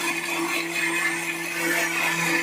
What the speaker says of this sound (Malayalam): ഈ മസാല കൂട്ടി നമുക്കൊന്ന് മിക്സിയിലിട്ട് ഒന്ന് അതടിച്ചെടുക്കണം